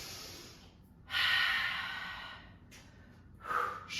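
Deep breaths during a bodyweight cardio workout warm-up, a couple of close, airy inhales and exhales in quick succession with nothing else around.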